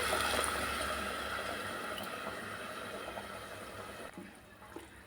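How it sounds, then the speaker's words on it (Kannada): Boiled water poured from a second pan into a pot of rice for a quick biryani, a steady broadband splashing and rushing that tapers slightly toward the end, close and continuous. "ಆ ನೀರು ಕಾದಿರೋ ನೀರನ್ನು ಹಾಕ್ತಾಯಿದ್ದೀನಿ"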